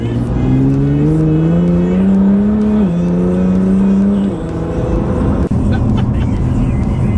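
A Nissan GT-R accelerating hard at full throttle, its engine note rising steadily in pitch with a brief shift dip before climbing again, loud and close from inside the car, without speech.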